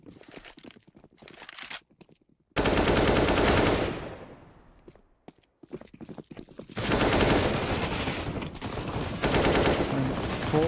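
Gunfire crackles through a Counter-Strike esports match as rapid automatic bursts come in loud, dense volleys separated by quieter gaps with scattered shots and game effects.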